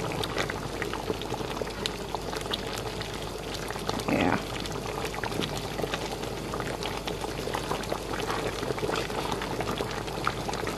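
Okra soup with seafood bubbles at a steady boil in a pot, a soft continuous burble, with a brief pouring splash partway through and no speech.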